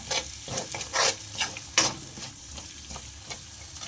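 A spatula stirs and scrapes through a frying mixture in a pan, with a steady sizzle and several sharper scraping strokes close up; no one speaks.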